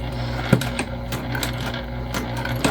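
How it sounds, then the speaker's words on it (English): A sewing machine runs steadily while stitching a narrow seam on a bag, its close, even whir marked by a few soft ticks and clicks. "we're just stitching at 1/8 of an inch here"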